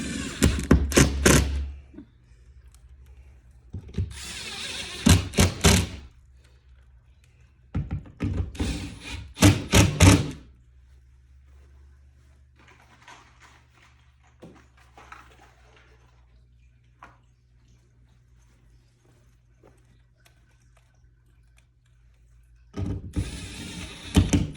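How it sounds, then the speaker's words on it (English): A power drill drives screws into wall holes to secure a floating shelf, with loud whirring bursts of a few seconds each, separated by quiet gaps and a final burst at the end. "I'm just going to run screws into all these holes, get me good and secure."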